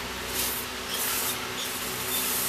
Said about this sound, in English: We're going to use some of this Amsoil brake cleaner.